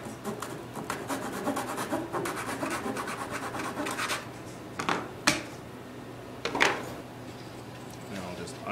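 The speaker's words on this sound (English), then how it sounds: "Just clamp this to my bench top and quickly cut that." Hand saw cutting a wooden brace for a tenor guitar top clamped to a bench, a quick run of rhythmic rasping strokes followed by a few knocks and handling sounds, with a voice in places.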